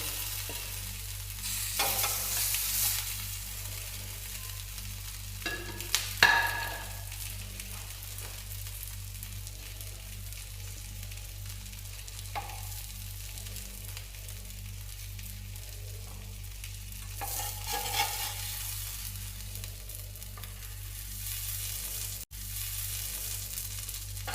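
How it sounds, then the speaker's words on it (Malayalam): Mackerel fries in a pan with green pepper, giving a soft steady sizzle throughout. A few louder bursts of crackle and spatter come with utensil movements, and no one speaks. "മീൻ നന്നായി ഫ്രൈ ആയി വെച്ചിട്ട് ഇനി നമുക്ക് പാത്രത്തിലേക്ക് മാറ്റി വെക്കാം"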